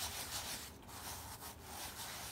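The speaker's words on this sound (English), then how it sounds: "I can even go through with my hand right now and just kind of rub it" A hand rubs damp cashmere felt in slow circles, making a soft, continuous brushing and scrubbing sound, quiet and close.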